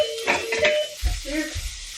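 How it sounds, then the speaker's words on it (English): Diced bacon dropped into hot oil, giving a close sizzle and crackle with stirring and clattering pan noises over about two seconds. "So now that my oil has heated up, I'm going to put these little like diced bacon."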